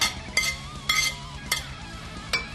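Garlic cloves and lemon zest being mixed into a dough mixture in a bowl: four sharp knocks and scrapes of stirring at a steady rhythm over a soft continuous rustle, close and fairly loud, with no talking.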